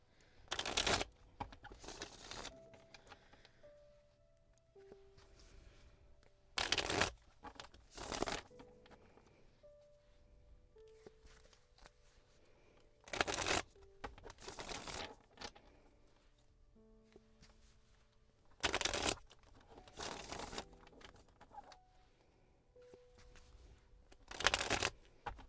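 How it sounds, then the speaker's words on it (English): Tarot cards shuffled by hand in bursts of loud riffling flutters separated by quieter handling and faint background hum, with about half a dozen distinct shuffles over the stretch. "I'm going to start shuffling."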